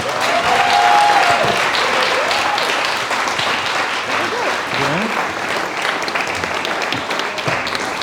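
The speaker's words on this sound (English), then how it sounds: "Massive round of applause, please." Wedding guests at the speeches give a dense, sustained round of applause that fills the room, loud at first and slowly easing, with murmured voices mixed into the clapping.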